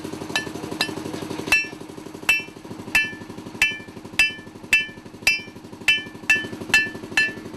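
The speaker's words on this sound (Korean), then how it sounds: "불에서 꺼낸 정을 익숙하게 망치로 두드린다." A fire-heated mining chisel is hammered by hand in a gold mine, about a dozen loud ringing metal strikes in a steady rhythm over a rapid mechanical chugging.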